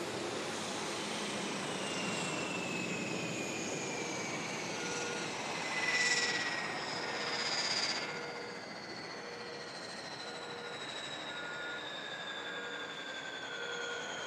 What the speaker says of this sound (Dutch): De vliegtuigen komen nu hoorbaar tot stilstand.